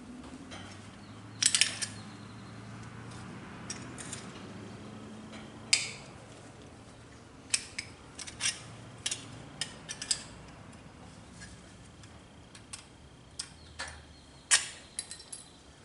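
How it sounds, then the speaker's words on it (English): Sharp snips from side cutters trimming metal on a 1962 Comet, a dozen or so crisp clicks spaced irregularly over a low room hum, close and fairly quiet with no talk. "Side cutters, or however you want to call them."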